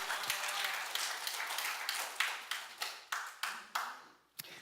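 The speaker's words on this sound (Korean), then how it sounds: "우리들에게 위대한 어머니를 허락하신 우리 하나님께 일단 영광의 박수 올려드리겠습니다." A church congregation gives a round of applause during a sermon, dense clapping at first that thins into a series of distinct, spaced claps and fades near the end, followed by one last clap.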